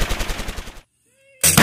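Rapid gunfire in a wild west scene crackles in a fast burst, then a short quiet gap with a faint tone before another loud blast.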